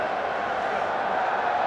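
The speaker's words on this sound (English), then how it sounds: "A huge cheer from the crowd every time his face goes up on the big screen" A stadium crowd at a Rugby World Cup 2019 match between Japan and Russia sends up a steady, broad roar of cheering that holds evenly throughout without distinct peaks.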